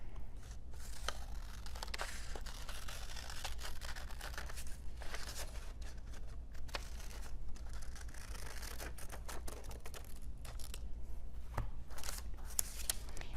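Scissors snip steadily through a paper pattern for a Halloween eyeball barrette, a run of small crisp cuts and rustles close by over a low background hum, with no talk.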